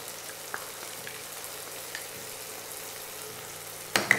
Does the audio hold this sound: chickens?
no